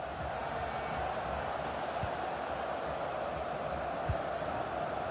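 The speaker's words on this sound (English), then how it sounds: "The crowd encouraging him to take it on." A sports crowd gives off a steady, distant roar of encouragement at an even level throughout, with only faint scattered peaks.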